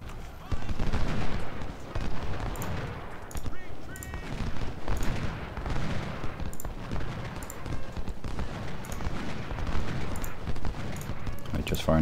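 Dense, continuous musket volleys and battlefield gunfire from the Civil War strategy game Ultimate General: Civil War at Antietam, a steady crackling roar with repeated sharp shots throughout, a voice talking over it.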